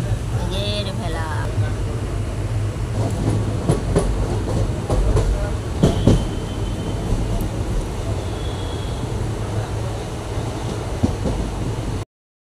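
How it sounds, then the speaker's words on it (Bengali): A train running slowly on rails past Dakshineswar, heard from on board with a steady rumble and rhythmic clickety-clack, while people talk over it throughout. "ট্রেন তো দেখলে কত স্লো চললো"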